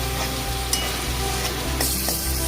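Masala sizzles and fries in a kadai while being stirred, a dense continuous crackle with soft scraping strokes of a spoon against the pan, close up and without any voices.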